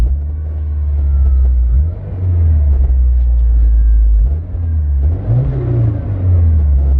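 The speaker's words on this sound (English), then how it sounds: "Oh wow, you get way more intake sound." A Subaru Forester XT fitted with an Invidia Q300 catback exhaust revs with a loud, deep rumbling engine and strong intake roar, rising and falling in several throttle blips.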